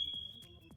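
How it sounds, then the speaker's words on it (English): A home fire alarm gives a faint, thin high-pitched beep held steadily through the moment, with soft rhythmic background sounds beneath it. "My fire alarm again."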